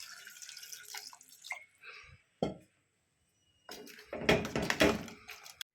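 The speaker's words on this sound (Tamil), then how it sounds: "தேவையான அளவு தண்ணி ஊற்றிக்கலாம்." Water poured into a pot of vegetable kurma with powdered coriander, in a home kitchen: a few splashing, trickling bursts separated by pauses, then a longer, louder pour near the end.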